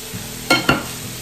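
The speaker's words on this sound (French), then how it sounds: "Je laisse mijoter tranquillement" Tuna filling with fresh coriander cooking in a pan, a soft sizzle under two quick scraping stirs, close and brief.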